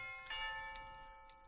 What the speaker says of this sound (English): tubular bells. They might be like outdated, but I think they can sound good.